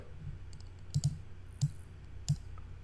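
A few sharp mouse clicks, a quick double click followed by two single clicks, close and crisp in a quiet room.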